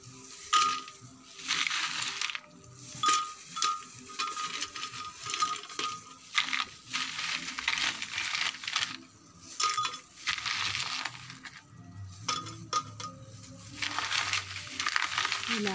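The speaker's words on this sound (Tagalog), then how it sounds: "Tinipak-tipak na yelo." Chunks of hand-broken ice dropped into a blender jar for a guyabano shake, giving irregular clinks, knocks and crunchy rattles in bursts, with short pauses and faint background voices.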